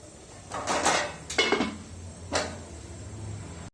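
Lid placed over a pot of sweet rice, giving a few close clattering metal knocks, two quick together then one more, before a faint hum, with no voices.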